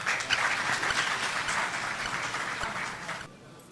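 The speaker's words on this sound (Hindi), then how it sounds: "सबा का तालियों से इस्तकबाल फरमाइए।" Audience at a mushaira in Jeddah clapping to welcome a poet, a brief burst of steady applause from a gathered crowd that cuts off abruptly near the end.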